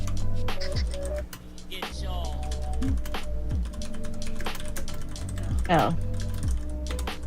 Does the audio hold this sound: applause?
no